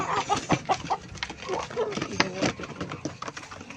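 Chickens clucking during feeding, a run of close, irregular clucks and short calls with bits of voice mixed in among the birds.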